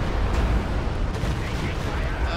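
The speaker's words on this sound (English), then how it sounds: "Rockets are away." Rocket fire in a competitive match of a video game, a dense, rumbling barrage of blasts packed into a couple of seconds with a voice talking over it.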